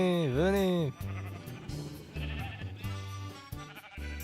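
Minecraft sheep bleat in a game, one long wavering bleat followed by a run of shorter, repeated bleats while someone talks excitedly over them.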